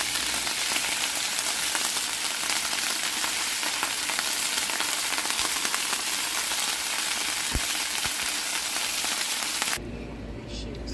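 Palm-sized mushrooms fry in a pan with a loud, steady, dense sizzle that runs unbroken for about ten seconds, then cuts off abruptly into a quieter hum.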